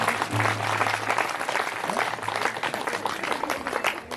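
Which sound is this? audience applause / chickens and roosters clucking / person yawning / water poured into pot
audience applause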